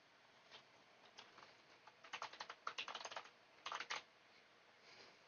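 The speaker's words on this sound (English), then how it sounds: "we are pressing a keyboard button" Typing on a computer keyboard, a loose run of soft key taps that thickens into a quicker cluster of clicks midway before thinning out again, close and fairly quiet with no talking over it.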